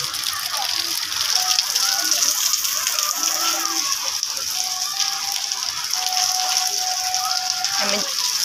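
Heavy rain falling at a home gathering, a dense steady hiss of downpour with splashing water throughout, while people talk over it.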